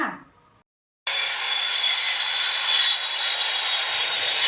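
Airplanes fly overhead in a steady, loud engine roar that cuts in abruptly after a brief silence and holds unchanged, following a faint fragment of other sound at the start; no one talks.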